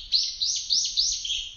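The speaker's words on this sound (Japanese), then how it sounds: "鳥たちが歓迎してくれています。" Small birds chirp at an Okinawan sacred grove, one of the seven Ryukyu creation utaki, in a run of four or five bright, rising tweets close to each other, with nobody talking.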